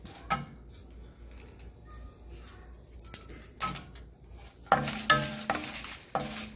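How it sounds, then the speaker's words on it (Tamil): Dried red chillies sautéing in a pan for Madurai-style black urad dal idli podi: intermittent scraping and stirring strokes with a soft sizzle, busier and louder toward the end, and no talk. "இப்போ வத்தல் போட்டு நல்லா வந்து வதக்கிடலாம்."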